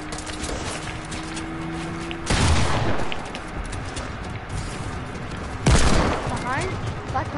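Fireworks exploding in an online duos shooter game, two loud bursts a few seconds apart with crackling tails, heard over game ambience.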